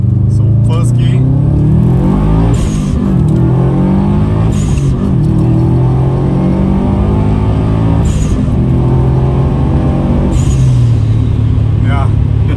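A Subaru WRX STi making over 300 kW, accelerating hard in first gear: a loud, close engine roar rising in pitch, with a few sharp breaks and shifts along the way and a constant heavy rumble.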